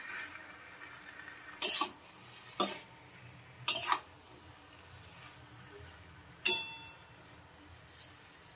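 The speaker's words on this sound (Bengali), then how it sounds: "এবার পুঁই শাক যে সেদ্ধ করে রেখেছি এটা আবার দিয়ে দেবো। মাখা মাখা করে নেবো।" Boiled Malabar spinach being mixed into a frying vegetable curry, a low sizzle beneath five sharp clattering knocks of a spoon against the pot, spaced irregularly, with no speech.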